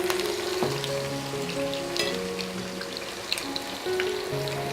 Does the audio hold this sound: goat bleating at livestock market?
no